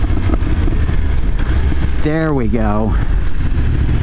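A 2020-or-later Yamaha R1 with a CP4 crossplane engine and an M4 mid pipe idles close by with a steady, loud, low rumble, while someone speaks briefly midway.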